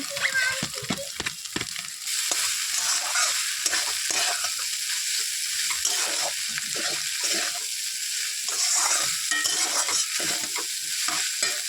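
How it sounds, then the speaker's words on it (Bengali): Pasta being stirred into frying egg and vegetables in a pan, a steady sizzle with scraping stir strokes running throughout, fairly close, no talk. "তো আমার ডিম আর সবজি প্রায় ভাজা হয়ে গেছে, এবার আমি এটাকে পাস্তাটাকে মেশাবো।"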